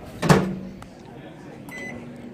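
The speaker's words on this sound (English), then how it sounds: "we threw it in the microwave and saw how well it cooked" A microwave oven hums steadily after a sharp clunk of the door closing and a few beeps, the low drone continuing evenly.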